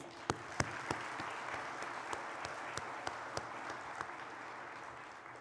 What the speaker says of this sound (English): Let's give our recipients a round of applause.